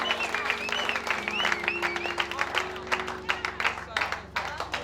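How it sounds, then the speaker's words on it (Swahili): A church congregation at a Swahili-language evangelistic sermon claps and cheers in praise, rapid irregular clapping with high ululation-like voices over a sustained crowd noise. "Shangilia Bwana kwa makofi na vigelegele."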